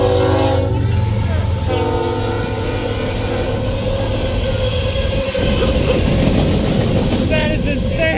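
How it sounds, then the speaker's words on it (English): A train passing close to a houseboat camp on the Mississippi River, a loud roaring rumble with a sustained horn blast and squealing wheels, overwhelming and continuous from start to finish. "Stay down! Here comes the train!"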